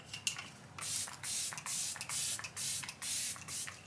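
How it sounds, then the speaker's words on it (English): Lancome Fix It setting spray pumped in a rapid series of about seven short hissing bursts, close and quiet, with brief gaps between each spritz. "Lancome Fix It Spray."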